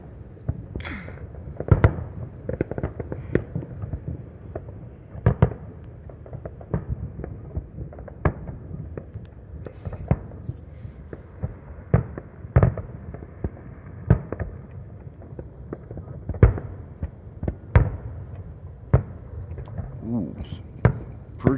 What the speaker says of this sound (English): Don't they know I'm trying to watch a fireworks show?